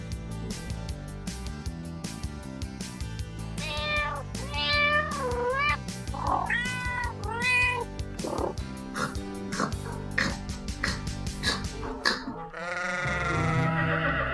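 A cartoon cat meowing several times in a children's farm animal scene, with plaintive rising and falling calls over continuous background music.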